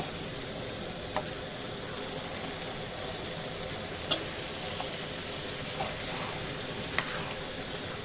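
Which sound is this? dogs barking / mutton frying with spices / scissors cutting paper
mutton frying with spices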